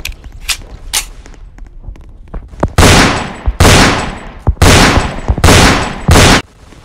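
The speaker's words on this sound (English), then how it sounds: "Why are you shooting at me?" Gunfire in a Roblox Fortnite-style shooter game: sparse sharp pops at first, then several loud bursts of rapid automatic fire, each about half a second long, separated by short gaps.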